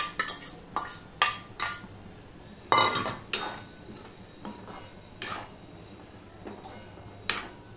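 A spoon clinks and scrapes against a kadai as sabudana khichuri is mixed over a low gas flame, in a series of separate, fairly close metallic strokes with quiet pauses between them.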